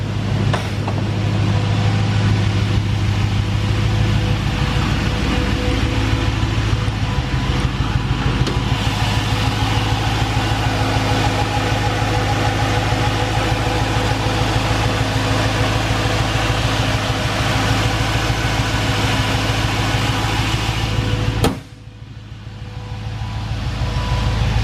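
A V8-swapped Honda S2000 idles steadily with a low, even engine hum while its radiator fan whirs continuously alongside. Near the end the sound drops abruptly to a softer level and then slowly builds again.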